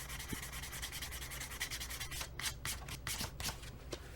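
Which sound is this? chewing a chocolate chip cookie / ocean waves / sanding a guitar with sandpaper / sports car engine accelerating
sanding a guitar with sandpaper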